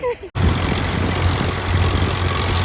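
After a brief moment of voice, a tractor engine runs loudly and close, a steady low chugging rumble that continues unbroken.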